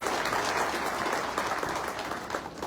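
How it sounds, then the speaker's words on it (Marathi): Loud, sustained applause from an audience at the Dharashiv Foundation inauguration ceremony, greeting actor Umesh Jagtap; dense clapping fills the whole stretch, easing slightly toward the end. "यांच्यासाठी जोरदार टाळ्या"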